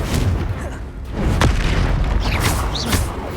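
A Confringo fire spell exploding in the wizarding game Hogwarts Legacy, a loud, heavy boom with a sharp burst at the centre, set against a rumbling, crackling combat backdrop.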